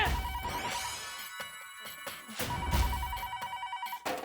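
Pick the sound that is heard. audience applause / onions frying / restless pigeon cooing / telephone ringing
telephone ringing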